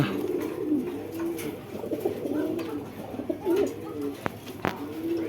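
Pakistani Giribaz pigeons coo softly and repeatedly at close range, with a few sharp clicks and rustles between the calls.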